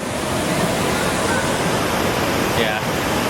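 A waterfall in Bali, Indonesia roars as a loud, continuous broadband wash of falling water, steady and close for the whole stretch.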